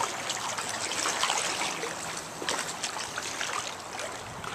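Floodwater flows in and around a garden shed, a continuous trickling, splashing rush of moving water, close and moderately loud throughout.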